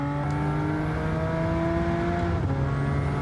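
Subaru Impreza with a swapped Porsche engine in Gran Turismo 7, a steady sustained engine drone with tonal harmonics that shift gradually in pitch, loud and continuous with no talk.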